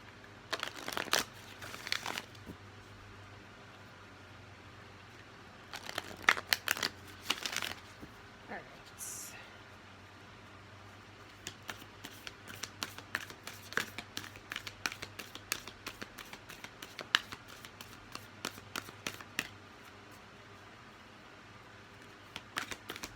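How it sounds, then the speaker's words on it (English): Oracle cards are shuffled in several quick riffling bursts, followed by a long run of light rapid flicks and taps against a quiet hum. "So we'll give this 3 quick shuffles."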